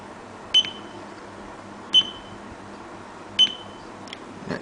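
A digital alarm clock gives three sharp, evenly spaced electronic beeps about 1.4 seconds apart, close and clear over a faint background hiss.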